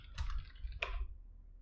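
Keys clatter on a computer keyboard as a PHP artisan serve command is typed: two short, close bursts of clicking, then quiet.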